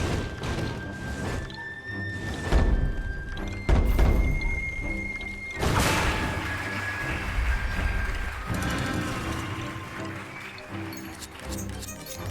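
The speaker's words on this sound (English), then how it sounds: "Stick a bomb on that glowing taiko drum." A bomb blows up on a glowing taiko drum in the Puppeteer video game: a loud boom among repeated thuds and crashes, over a busy game soundtrack that keeps playing throughout.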